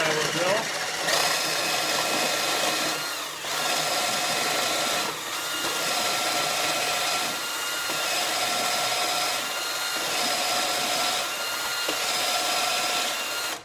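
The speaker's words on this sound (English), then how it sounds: "And I will drill." A power drill whines deep into end-grain wood in repeated bursts, pausing briefly between runs to clear chips as it bores deeper, with a voice speaking at moments.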